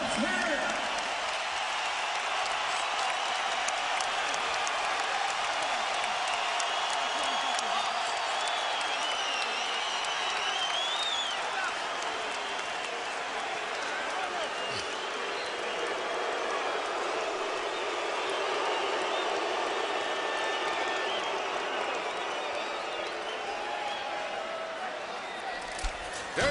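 Boxing arena crowd roaring and applauding as a round ends, a dense, steady wall of cheering and clapping that holds at full strength throughout, with a commentator talking over it.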